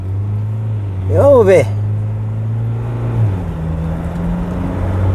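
Ford Ranger 2.0 diesel pickup pulls away from a standstill, its low engine tone droning steadily and the pitch shifting as it gears up, while someone talks over it briefly early on.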